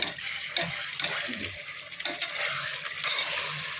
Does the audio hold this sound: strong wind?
no